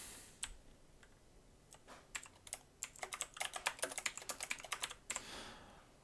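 Code is typed on a computer keyboard: a quiet, close run of quick key clicks that starts sparse and builds into a dense, steady burst before easing off.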